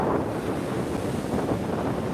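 Strong wind buffets the microphone at Laguna Beach, a steady broadband roar with surf washing underneath, loud and unbroken throughout.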